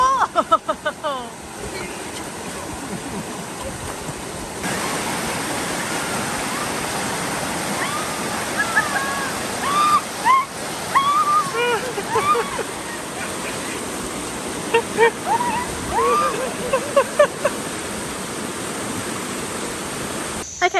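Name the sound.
rushing water at Seven Wells Waterfall, Langkawi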